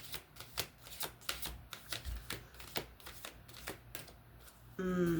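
Oracle cards shuffled by hand during a card reading, a string of soft rhythmic riffling slaps up close, followed at the end by a brief burst of voice.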